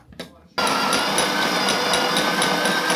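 An electric coffee grinder grinding about 12 grams of coffee beans in a home kitchen, starting abruptly after a brief quiet moment and then running as a loud, steady, high-pitched whir with a faint rhythmic pulsing throughout.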